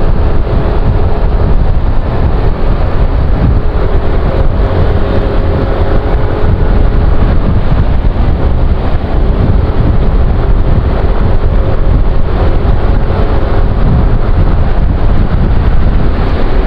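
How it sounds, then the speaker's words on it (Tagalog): Strong wind buffets the microphone on a Pasay street near Roxas Boulevard by the sea, a steady loud broadband roar lasting throughout with no pause. "Ang hangin, ang lakas."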